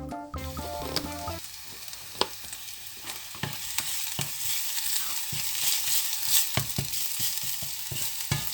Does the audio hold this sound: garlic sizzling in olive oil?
yes